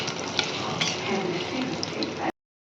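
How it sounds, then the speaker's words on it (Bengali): Potato pieces fry in hot oil until browned, a continuous close sizzle with a few sharp ticks and scrapes from the utensil, cutting off abruptly. "আলুগুলো ভালো করে লাল করে আমি ভেজে নেব"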